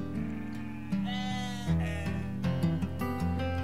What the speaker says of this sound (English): Little Cloud changed into a sheep.